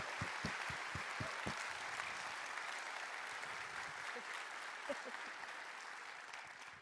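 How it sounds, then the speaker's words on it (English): A conference audience applauds the organizers and sponsors in a large hall, a steady, dense wash of many hands clapping that holds for several seconds before slowly thinning out. "let's give them a huge round of applause for Passionate People and the sponsors"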